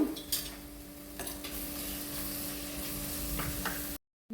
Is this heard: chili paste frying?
yes